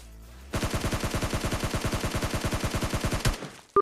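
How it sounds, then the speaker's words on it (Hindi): Rapid burst of shotgun-style gunfire in the PUBG battle royale game, about thirty loud evenly spaced shots over three seconds, ending abruptly with a sharp click and a faint final report. "ये शॉटगन चली"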